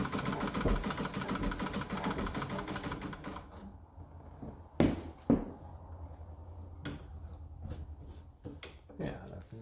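A treadle-driven Pfaff 130 vintage sewing machine stitching a wide zigzag, its rapid mechanical clatter steady and close for several seconds, then dropping away to sparse knocks and handling taps with a few louder thumps.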